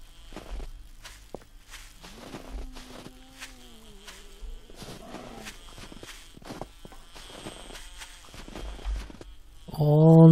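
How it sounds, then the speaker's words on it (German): Steady crunching footsteps on snow in the video game 7 Days to Die, a regular series of soft thuds close by, with a faint bee hum in the background and a louder burst at the end. "den Schneeknirschen beim Gehen"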